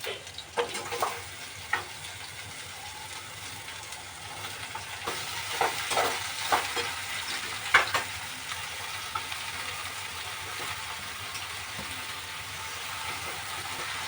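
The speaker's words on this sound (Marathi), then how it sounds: "कढीपत्ता वरतो जरा, यामध्ये मी घालते हा दुधी." Sliced bottle gourd fries with curry leaves in hot oil in a home kitchen, giving a soft, steady sizzle with occasional stirring clatter and scrapes. No voices are heard.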